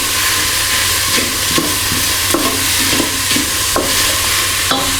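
Chicken and chorizo with Jamaican jerk seasoning fry in a pan for a Cajun-style jambalaya, giving a loud, steady sizzle with periodic spatula stirs and crackles.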